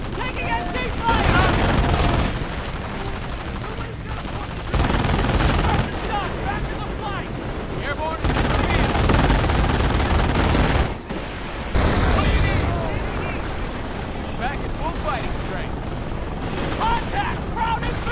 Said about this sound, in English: Taking MG fire!